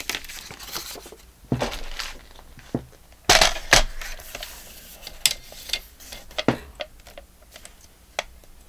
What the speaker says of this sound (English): So let me cut off this little piece here.